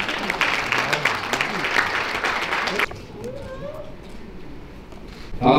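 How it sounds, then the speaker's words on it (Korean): An audience at a scholarship ceremony during an awards evening claps warmly for about three seconds. The applause then stops abruptly, a host speaks over the quieter room, and a fresh burst of noise begins at the end. "뜨거운 박수 부탁드립니다"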